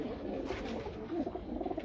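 Teddy pigeons from a breeder's loft cooing softly, a low murmuring coo that rises and falls in short phrases, faint and close with no voices.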